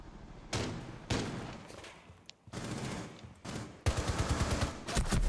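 Bursts of gunfire in Rainbow Six Siege, several separate volleys of rapid shots at moderate distance, separated by short quiet gaps, the last burst the loudest.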